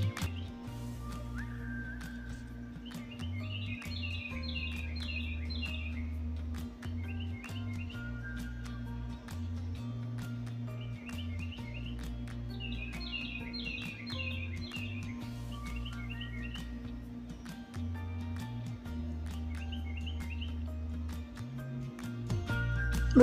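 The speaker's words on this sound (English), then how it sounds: "Hear the birds?" Birds on a farm chirping and singing in short repeated bursts of high twittering, fairly faint, over a steady low hum and rumbling background.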